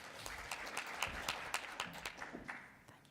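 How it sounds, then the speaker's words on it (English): An audience at an education panel session claps to welcome the next speaker, a fairly quiet, steady patter of applause lasting a few seconds. "Please give him a round of applause."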